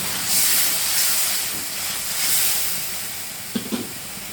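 A loud, steady hiss of steam fills the clip as water is poured into a hot pan of fried garlic and cumin paste, ending with a couple of soft clunks near the end.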